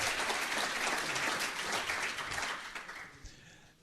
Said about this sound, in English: You're very much welcome to applause for this